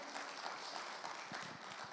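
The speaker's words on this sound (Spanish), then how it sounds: "Démosle un aplauso fuerte al Señor" Applause from a church congregation at a Bible study gathering, a steady dense patter of many hands clapping together, fairly faint and continuous for the whole stretch with no voices standing out.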